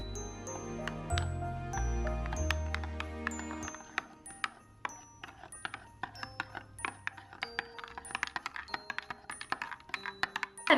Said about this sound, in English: I'm gonna go ahead and stir this up.